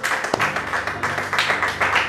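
A church congregation applauds during a worship service, steady clapping with rhythmic surges over a sustained musical drone, voices faintly mixed in.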